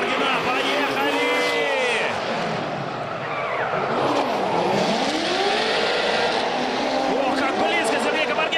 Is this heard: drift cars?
yes